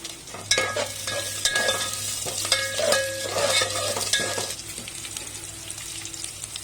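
Curry leaves and green chillies fry in hot oil in a pan for a coconut kofta curry, giving a steady sizzle with crackles and stirring scrapes that calm after about four and a half seconds.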